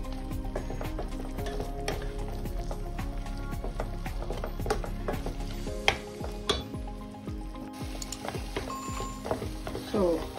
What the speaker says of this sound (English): Flip the masalas, all the gravy, and stir it for a few more minutes